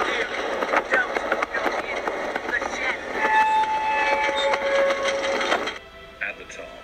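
A Mystic Timbers roller coaster train at Kings Island rumbles and clatters steadily up its 109-foot lift hill with mechanical rattling, then the noise drops away abruptly near the end.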